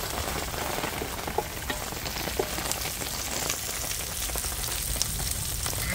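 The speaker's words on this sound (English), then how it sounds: "So I put in this curry leaves in here to saute up as well." Curry leaves sauté in hot oil in a pan over an outdoor fireside chulha, giving a steady, close crackling sizzle with scattered pops throughout.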